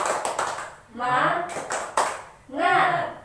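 Children in a classroom perform a 'tepuk semangat' clap chant: a quick burst of hand claps at the start, then loud voices chanting in unison in two drawn-out phrases.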